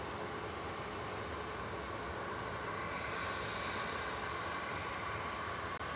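Jet2 airliner taxiing at Manchester Airport, a steady broadband engine rumble and whine holding at constant level throughout, distant and continuous with no voices.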